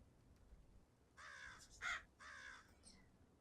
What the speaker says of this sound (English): We got crow sounds. We got crows.